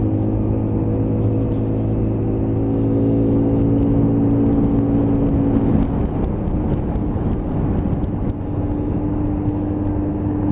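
A Lexmoto Chieftain 125cc scooter rides steadily through a roundabout, its engine droning and whirring at a constant pitch close to the mic alongside continuous wind and road rumble.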